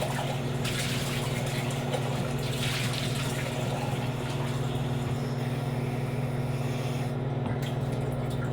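Fresh water runs steadily into a container from a tap or pump, a continuous rushing flow over a constant low mechanical hum, with no talking.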